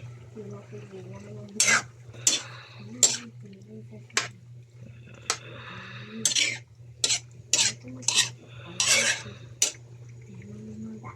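Papaya dish stirred in a pan, a series of distinct scraping and clinking strokes of a utensil against metal, close and irregular, over a low steady hum.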